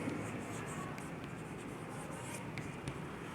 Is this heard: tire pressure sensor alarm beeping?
no